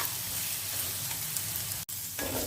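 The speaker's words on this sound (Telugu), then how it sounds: "మిక్సీకి వేసుకున్న పుదీనా దాన్ని నూనెలో వేసుకొని కొంచెం బాగా ఫ్రై చేసుకోవాలి" Mint paste frying in oil, a steady close sizzle that carries on without pause, briefly cut by a split-second dropout before the hiss resumes; no one speaks.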